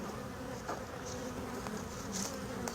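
Honey bees buzz steadily around an opened hive frame, a dense close swarm hum that continues unbroken throughout with no voices.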